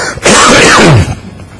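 A single loud, close cough bursts out and fades within about a second, with quiet room tone before and after.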